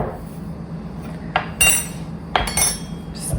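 Flour, salt and sugar for bannock stirred together in a mixing bowl: a low steady rumble with a few brief sharp scrapes and clinks of utensil against the bowl.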